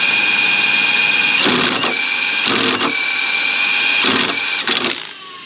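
Engine of a 1968 Volkswagen camper being turned over, a steady mechanical whir with a whine, broken by several louder bursts of chugging before it winds down near the end.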